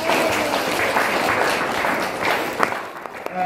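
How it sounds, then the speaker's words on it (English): Steady applause fills a wedding reception room, a dense crowd clapping loudly and continuously before starting to taper off, with a few sharper claps near the end. "Nice round of applause."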